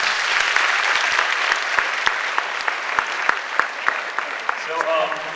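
An audience at a Joliet West High School talk gives Gabriel Thompson a sustained round of applause, with dense overlapping claps close and loud throughout and a faint voice surfacing near the end.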